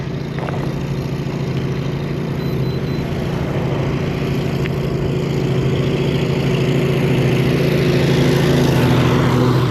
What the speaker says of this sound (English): Looks like we got a mower up ahead.